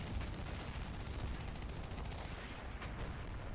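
Dense small-arms gunfire in the video game Renegade X, rapid continuous shots aimed at a tank, loud and sustained throughout with no voices heard.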